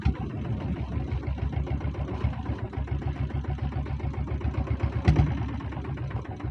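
Diesel Royal Enfield Bullet motorcycle with a 7.5 hp self-start engine running nearby, a steady rhythmic thumping idle with a brief louder rev near the end, no talking.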